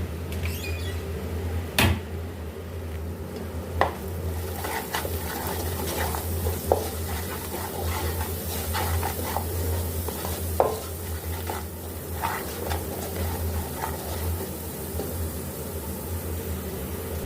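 Spices such as chilli, ground coriander and salt being mixed in a pan for fish curry, a low sizzle under slow scraping strokes and a few sharp knocks against the pan.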